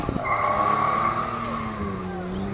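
A 1957 Jaguar D-type replica race car in Ecurie Ecosse colours is driven hard, its engine note rising and holding steady with a tonal whine and a brief tire-squeal quality, close and loud throughout.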